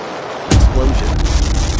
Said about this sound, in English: A decommissioned iron ore plant in Germany comes crashing down. The explosion is absolutely massive.